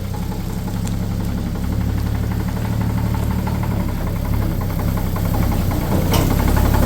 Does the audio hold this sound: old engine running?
yes